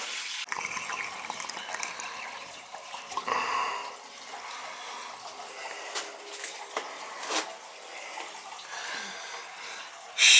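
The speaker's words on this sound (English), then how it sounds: "draining it out." Water drains from an old gas boiler being replaced, a quiet, uneven trickle and splash with small drips and gurgles, close by and without talk.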